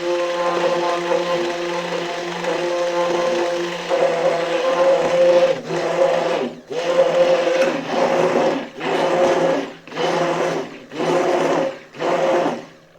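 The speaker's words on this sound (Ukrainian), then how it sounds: "Тепер можна водити вже тим блендером, щоб взяти всю олію з молоком і з пудрою перемішати." An electric blender whirs loudly mixing oil, milk and powdered sugar into chocolate paste, first continuously, then in a series of roughly one-second bursts with short pauses between them, no voices.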